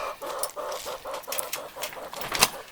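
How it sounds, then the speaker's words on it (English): A hen clucks in quick repeated bursts, close and clear, keeping up an agitated rhythm for nearly three seconds. "can you hear the chicken? She does not like this."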